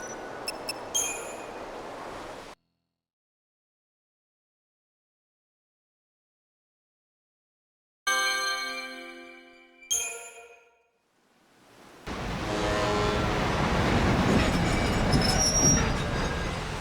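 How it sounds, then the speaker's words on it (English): A train in the video game Lightning Returns: Final Fantasy XIII rumbles past at close range, with loud broad roar and squealing wheels, then drops to silence before a bright tonal burst and a returning steady rush of passing cars. "Here for the train?"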